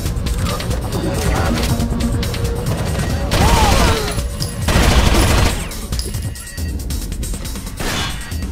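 Gunfire in the tactical shooter Rainbow Six Vegas: dense, sustained bursts of automatic fire with loud impacts and explosive swells, forming continuous combat noise with no clear speech.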